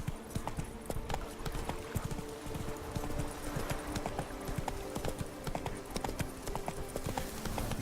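Roach the horse gallops in The Witcher 3, a steady rapid drumming of hooves on the ground that runs continuously throughout and stays close and fairly loud, with no talking.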